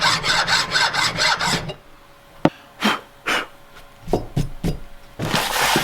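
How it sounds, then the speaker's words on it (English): A hand file rasps across a metal part of a Ford Escort RS Cosworth during restoration, stripping powder coating in a quick run of even strokes, then slower separate scrapes after a pause, close and clear. "Same again with the file, nice and flat, rub the powder coating off."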